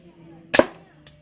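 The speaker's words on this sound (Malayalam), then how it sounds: "നമുക്ക് ഇനി വെടി വെച്ച് നോക്കാം" One sharp, snappy pop from a toy soft gun, close and brief, followed by a fainter click a moment later.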